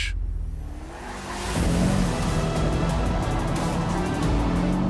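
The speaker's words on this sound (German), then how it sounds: "Die Zeit läuft für Laura bei der Drift Challenge." An Audi sliding sideways in a drift challenge, its engine revving up and holding a strained, rising drone as the car swings through the slide, loud and close with tire and wind noise.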